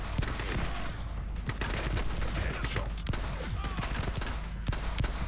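Pistol fire in the shooter game The Club crackles as rapid, sharp bursts over a dense, noisy backdrop of game effects, with shots coming in quick irregular succession throughout.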